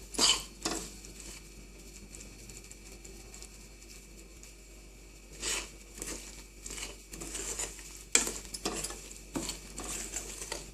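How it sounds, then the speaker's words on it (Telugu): Masala paste stirred and fried over high heat in a pan for sweet mango pickle, soft crackling with intermittent spoon scrapes and clinks against the pan, close and fairly quiet, no talking. "ఇప్పుడు హై పెట్టుకుని ఫ్రై చేసుకుందాం."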